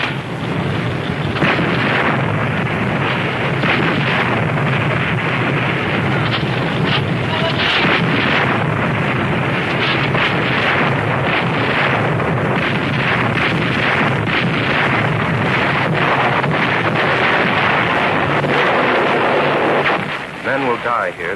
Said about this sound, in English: Men at work, firing the guns, clearing the path for the hand-to-hand fight to come.